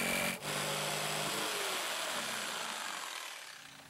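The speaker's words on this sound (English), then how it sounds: "Now use a jigsaw to cut out the hole." A jigsaw cutting a six-inch hole through a wooden bag toss board, a loud continuous buzzing rasp that holds steady and then fades slightly near the end.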